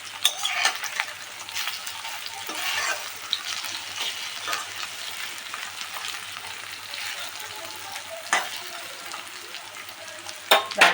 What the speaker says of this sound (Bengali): এইভাবে সব বড়াগুলোকে আস্তে আস্তে উল্টে পাল্টে ভেজে নেবেন।